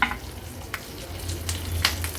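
Mustard seeds spluttering in hot oil with asafoetida and curry leaves, a soft continuous sizzle dotted with a few faint crackling pops, close and quiet, no talk.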